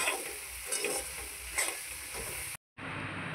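Besan mixture for laddoos being stirred in a hot pan after a splash of water, with soft repeated scraping strokes over a steady frying sizzle and hiss, close and fairly quiet, broken by a brief dropout near the end.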